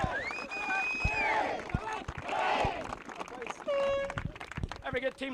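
Crowd at a junior football final giving three cheers for the team, with a voice calling out between bursts of shouting and cheering in a noisy, echoing space.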